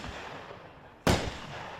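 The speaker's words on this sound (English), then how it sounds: "crackle of large fireworks began" A single large firework burst at a Kentucky show lands sharply about midway, its broadband crack trailing into crackle over a steady background of crowd and ambient noise.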